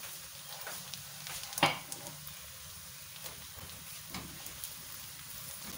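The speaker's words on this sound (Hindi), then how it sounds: "ये हरी मिर्चें डाल दी हैं।" Green chillies frying in a pan for an Indian egg curry give a quiet, steady sizzle with soft crackles and one brief sharp pop, no talking over it.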